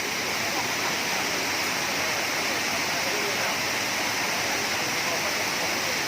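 Steady, dense roar of Kuang Si waterfall near Luang Prabang, Laos, constant and loud throughout with rushing water filling the whole clip.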